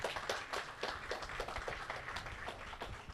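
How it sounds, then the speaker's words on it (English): Applause for young swimmers at the public opening of a recreational pool facility, a fairly small crowd clapping in quick uneven bursts, moderately distant and steady for several seconds. "So let's give the young people a round of applause."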